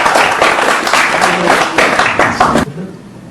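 Applause from a comedy show audience, a burst of dense clapping and cheering lasting a couple of seconds before cutting off sharply into quiet room tone.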